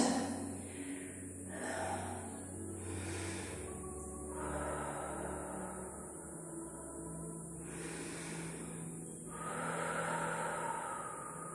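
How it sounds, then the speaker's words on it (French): A pilates instructor breathes loudly and deliberately during a workout, slow audible inhales and exhales rising and falling in several long swells close to the mic. "Je fais du bruit exprès que tu comprennes qu'il faut respirer, pas rester en apnée."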